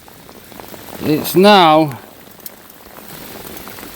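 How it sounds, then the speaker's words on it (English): Heavy rain mixed with hail pours down in a steady, close hiss outdoors during winter sea fishing at Holyhead, and someone speaks briefly over the downpour. "It's a mix of hail and rain, and it's not nice."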